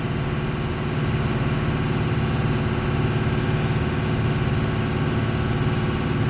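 A vehicle's diesel engine runs at high rpm during regeneration, a dense, steady, loud drone with no change in pitch heard from close by throughout.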